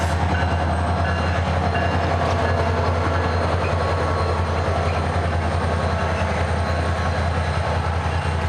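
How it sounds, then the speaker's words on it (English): Orlando city commuter train rolling past close by, a loud, sustained rumble and rattle of wagons with a low engine drone throughout, no talk. "That's our city train here in the Orlando area."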